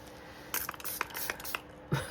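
A spray bottle being squirted several times in quick succession, close and crisp hissing bursts of water mist, followed by a small knock, with no talking.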